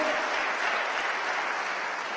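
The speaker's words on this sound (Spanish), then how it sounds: "Démosle palmas al Señor" A church congregation claps together in praise of the Lord, a dense, even wash of applause that stays loud and close throughout, heard alone without any voices.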